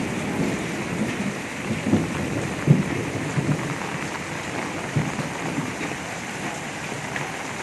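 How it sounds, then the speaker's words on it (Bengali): Heavy Kalbaishakhi storm rain pours steadily over a waterlogged road, with low rumbles of thunder rolling through, one sharper crack near the middle, all with no talking. "প্রচুর পরিমাণে বৃষ্টি হচ্ছে, প্রচুর পরিমাণে, ধারণার বাইরে"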